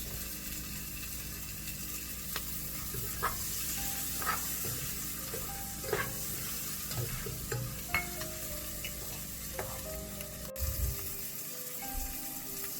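Finely chopped capsicum fries in a pan, giving a steady sizzle broken by repeated close scraping stirs at irregular intervals.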